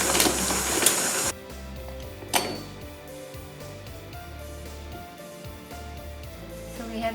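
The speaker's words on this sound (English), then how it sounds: "Mixing our butter and flour on a medium speed, we'll mix it until we have a smooth paste." An electric mixer runs at medium speed through butter and flour, giving a quiet, steady mechanical whir with a few brief clinks and rattles near the start.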